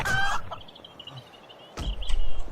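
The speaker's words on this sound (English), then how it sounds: "Ah, goddamn chicken." A chicken in the survival game 7 Days to Die clucks in two short bursts, one at the start and one near the end, with a quieter stretch between.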